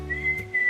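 Short tongue whistle, a few clear high sustained notes with small breaks between them, close and alone with no talking.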